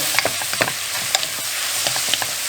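Food stirred and frying in a pan for a pasta dish, a loud constant sizzle punctuated by repeated quick scraping strokes of the utensil against the pan.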